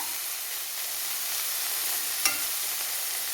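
Taro leaves stir-fry in an open pan with a soft, steady sizzle and hiss, plus one brief clink partway through.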